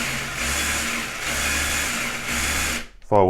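Tamiya Wild One RC car electric motor driving forward: a steady whining drone that pulses in three long bursts, close and fairly loud, then cuts out before a short voice at the end.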